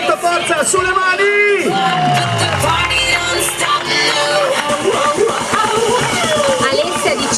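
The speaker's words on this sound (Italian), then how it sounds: "Un bel applauso a tutti di incoraggiamento" Cheering and whooping from a live audience at a Miss Italia 2010 regional selection in Liguria, during the bikini catwalk. The crowd stays loud and steady throughout, layered with music and voices.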